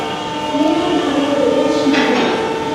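A Vande Bharat Express standing at a railway station platform, heard as a loud, steady mechanical hum with a sustained tonal whine and a faint rising swell in the middle.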